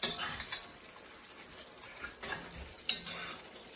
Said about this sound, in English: the sauce is being caramelized, the sugar.